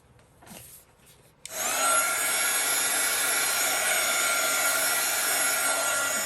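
A heat gun blows hot air over an art journal page, switching on after a quiet moment with a sudden loud, steady broadband roar that holds evenly to the end.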